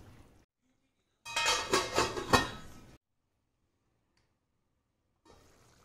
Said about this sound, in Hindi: उबला हुआ पानी डालेंगे थोड़ा।